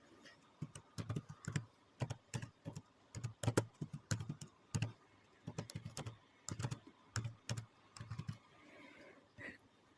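Typing on a computer keyboard while editing a chart in Excel, with quick irregular bursts of clicky keystrokes, close and fairly quiet, pausing briefly before a final few taps.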